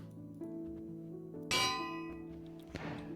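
A single bell rung in the Minecraft video game, one bright metallic clang with a shimmering ringing tail, fairly loud over steady background game music, followed by a softer swishing sound.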